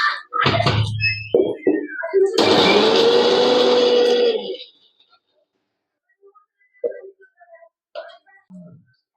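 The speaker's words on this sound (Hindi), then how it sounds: "देखिए काजू और मखाना को मिक्सी में डाल दीजिए।" A loud, harsh whirring burst of a mixer grinder grinding cashews and makhana runs for about two seconds between stretches of nearby speech, then quieter talk and small clinks follow.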